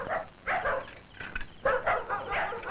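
Dogs bark in a film scene, a few short barks and yelps in uneven bursts, fairly near and moderately loud.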